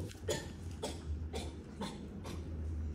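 A voice imitates a whooping cough, giving a run of about five short, harsh coughs in quick rhythmic succession, fairly faint and close.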